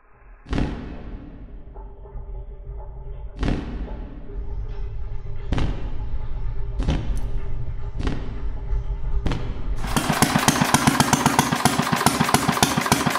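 An engine running on gasoline turns over with several spaced, heavy chugs, then catches and runs with a rapid, steady, loud rattle.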